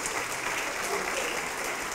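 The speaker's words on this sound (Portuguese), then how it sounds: "Vamos aplaudir mais, igreja." Church congregation applauding during a lively service, a dense, continuous wash of clapping from a crowd, even and somewhat distant, with no distinct individual claps standing out.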